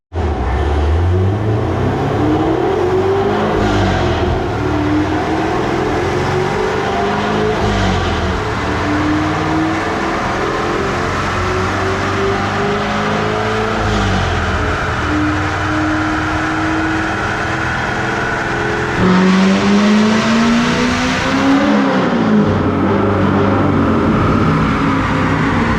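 A naturally aspirated C7 Corvette running on E85 revs hard on a dyno. The loud engine note climbs through repeated rising pitch sweeps with brief shifts between them, and the roar holds steady near the microphone for the whole pull.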